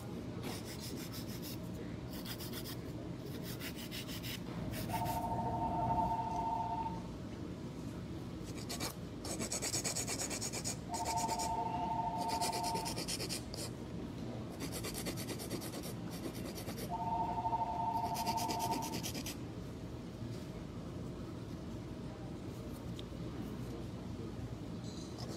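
An 80/80 grit nail file rasping across fingernails during a gel fill, rhythmic back-and-forth scratching strokes, close and steady, with faint electronic beeps recurring in the background.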